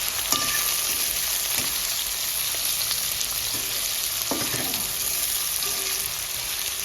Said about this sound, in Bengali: এখন হবে যে পেঁয়াজ ভেজে হচ্ছে।